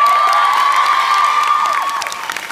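Cinema audience at a film premiere cheering, whooping and applauding loudly in a sustained, dense burst that tapers slightly toward the end.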